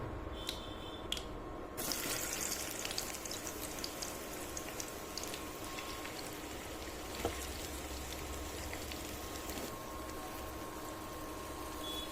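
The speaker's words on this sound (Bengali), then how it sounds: "এখন দিব 5 ফোড়ন, হালকা নাড়াচাড়া করে নেব।" Panch phoron five-spice hits hot oil for a sweet-sour hog plum pickle and is lightly stirred. A sudden, steady hiss of sizzling follows a quiet start and carries on, with a few faint clinks from the pan.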